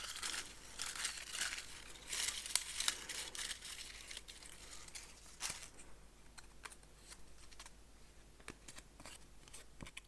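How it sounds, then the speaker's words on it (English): Small paper slips are picked up and unfolded close by, making soft crinkling and rustling with scattered sharp crackles, loudest at first and then thinning to occasional taps. "I have the numbers 1 to 16 written on papers here, and I'm just going to choose one paper."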